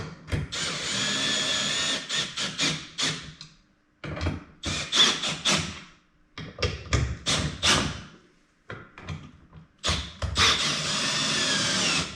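A power drill tightens screws on a Hobie adapter plate centred on a kayak's rear H-rail. Several short whirring bursts of varying length come close and loud, separated by brief silences.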